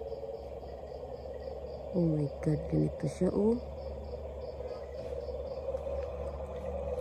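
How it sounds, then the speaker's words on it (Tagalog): Frogs croak in a short burst of rising calls over a steady drone of crickets at night in an abandoned resort, with a person speaking briefly in the clip. "Baka palaka lang yan."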